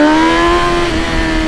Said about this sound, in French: je vais vous faire un petit 0 à 100